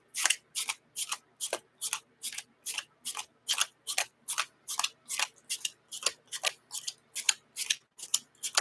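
Rapid, steady riffle of Marvel Champions card game cards being shuffled, a long run of crisp fluttering bursts at an even rhythm, close and fairly quiet, with no talking.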